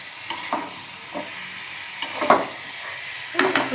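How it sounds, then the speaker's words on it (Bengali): Curry with eggs being sautéed in a pan, a low sizzle punctuated by several separate stirring scrapes and clatters at irregular intervals. "তরকারি কষানো তো ডিমগুলো দিয়ে দিচ্ছে।"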